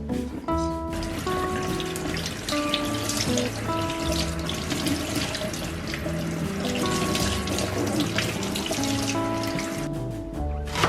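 Tap water runs steadily into a sink while vegetables are rinsed, a continuous close splashing with shifting trickles, alone and fairly loud, with soft tonal music underneath.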